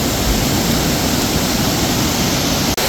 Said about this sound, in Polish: Zobaczcie, jak zaczęło teraz padać. Mamy bardzo intensywne opady deszczu w Alani.